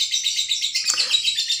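Lovebirds, including a female fighter bird, chatter in the background with rapid, high-pitched chirps and trills that run continuously and fairly loudly, without any talking.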